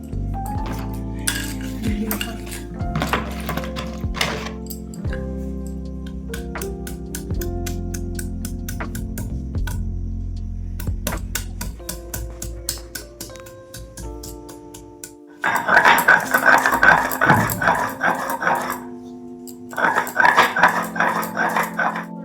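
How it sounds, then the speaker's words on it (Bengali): Ginger ground into paste in a home kitchen, starting with scattered clinks and knocks of utensils, then giving way to bursts of loud, rough, rhythmic grinding close-up, with a brief pause between bursts. "এখন আমি একটু আদাটা বেটে নেব"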